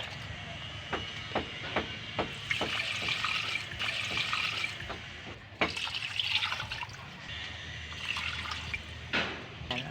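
Water poured into a pot of pork hock for nilagang pata, splashing and trickling in uneven bursts with clinks and knocks of the pot and utensils, fairly quiet and close, with no talk.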